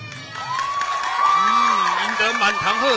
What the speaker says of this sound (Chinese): 赢得满堂喝彩啊！